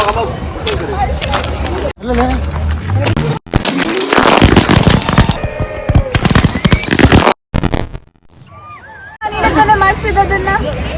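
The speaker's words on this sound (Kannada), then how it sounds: "ಸೀನಿಯರ್ಸ್ ಇವಾಗ ಪಟಾಕಿ ಹಚ್ಚೋಣ ಅಂತ ಹೋಗ್ತಾ ಇದ್ದಾರೆ" Firecrackers set off at a college Kannada Rajyotsava celebration, sharp bursts and crackling amid loud crowd babble and shouting, with brief gaps of near silence.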